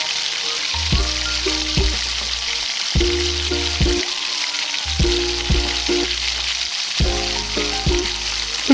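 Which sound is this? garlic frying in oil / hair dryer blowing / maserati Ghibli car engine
garlic frying in oil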